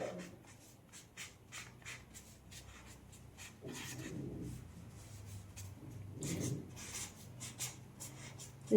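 Pen or pencil writing capital letters on paper, a soft scratchy rasp in short repeated strokes, faint and close with no talking.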